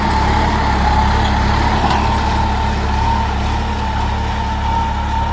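A New Holland 3032 35 hp tractor pulls a tiller through a field with a steady, continuous engine drone that holds an even load throughout, with no talk.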